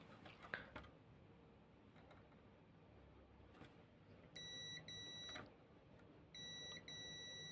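A multimeter in continuity mode, probing a switch pin inside a Phonic DJ mixer, gives two steady electronic beeps, each lasting about a second, over faint room noise and light clicks of the probes.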